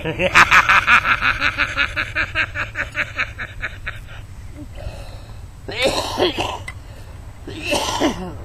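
A run of rapid, rhythmic coughs or throat-clearing bursts up close, followed by a pause and a few more harsh coughing bursts.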